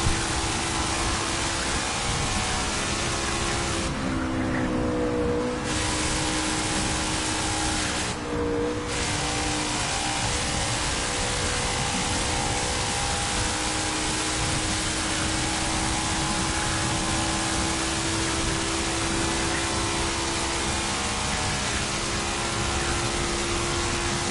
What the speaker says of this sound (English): These cars sound great.